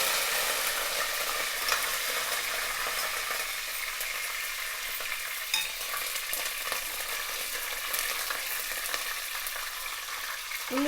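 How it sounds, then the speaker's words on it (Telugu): Curry leaves frying in hot oil for a cabbage masala dal, a steady close crackling sizzle with light stirring scrapes running throughout, no voices. "కరివేపాకు వేస్తున్నాను"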